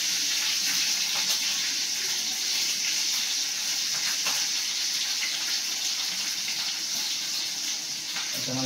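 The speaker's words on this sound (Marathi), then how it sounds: "राई जिऱ्याची फोडणी दिली ना अशी बाप लागते ना काही गोष्ट" Mustard seeds and cumin tempering in hot oil for shev bhaji, a steady close hiss of sizzling with faint crackle throughout, no talking.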